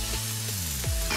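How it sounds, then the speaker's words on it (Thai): Pork bones stir-frying with curry paste in an electric pan, giving a steady, close sizzle with scraping stir sounds and no talking. "ตอนนี้ก็คั่วให้หมูสุกนะครับ"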